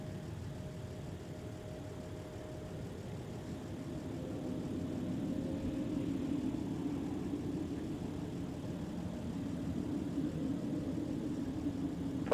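An airplane powers up for takeoff from a Minneapolis airport runway, a distant engine drone that swells louder midway and holds as a steady rumbling roar with a faint tonal whine, no talk over it.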